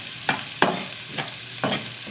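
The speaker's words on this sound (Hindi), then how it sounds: "जो हमारे प्याज थे उनको भी हम ब्राउन कर लेंगे।" Onions browning in leftover oil in a frying pan get stirred in four distinct scraping strokes over a quiet background sizzle, close and clear with no speech.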